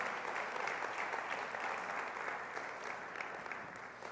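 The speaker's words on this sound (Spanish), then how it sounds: "Alguien denle un aplauso fuerte a Jesucristo." A church congregation applauds during a Sunday service, a steady wash of many hands clapping that carries evenly for the full stretch without any talk over it.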